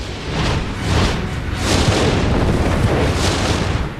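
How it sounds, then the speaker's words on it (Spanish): Deep, rumbling booms representing fragments of comet Shoemaker-Levy 9 slamming into Jupiter, rolling one into the next in a loud, continuous roar for about four seconds with no speech. "el planeta sufrió varias explosiones aéreas sucesivas a medida que rotaba bajo el cometa"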